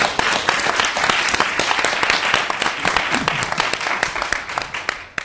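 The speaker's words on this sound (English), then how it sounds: "I really want to thank her with a round of applause right now." An audience at a health and pesticide prevention panel event gives a round of applause for a co-producer, a moderate crowd of hands with sharp individual claps standing out, sustained for several seconds before tapering off.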